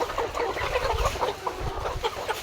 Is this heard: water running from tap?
no